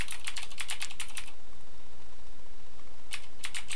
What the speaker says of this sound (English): For instance, I can type in